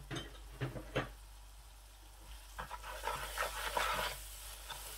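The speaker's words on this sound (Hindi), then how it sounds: "थोड़ा सा इस तरीके से हिला लें, अच्छी तरह से मिक्स कर लें।" Ginger paste being stirred into hot ghee for kadahi kabab, a spoon scraping and clinking against the pan in a few soft strokes over a faint, steady sizzle.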